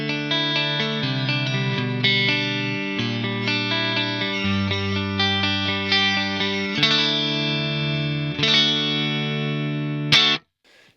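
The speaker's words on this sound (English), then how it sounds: "This just adds a little bit of sparkle to the amp tone." Clean electric guitar chords and arpeggios through a Roland SD-3000 preamp into an amp, with bright sparkle and a chorus-like shimmer, ringing sustained notes that stop abruptly at the end.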